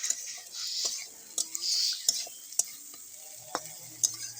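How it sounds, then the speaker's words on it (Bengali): Vegetables with ground Kashmiri chili being stirred and sautéed in a pan alongside okra, bitter gourd and potato: faint sizzle with intermittent spatula scrapes and clinks, fairly quiet and close, no talk. "এবার নাইড়ে চেড়ে আবার কষাই নেবো কিছুক্ষণ"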